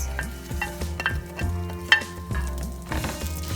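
Slit green chilies and curry leaves frying together in a pan over a low flame, a close crackling sizzle with repeated clinks and scrapes of a stirring spoon against the pan.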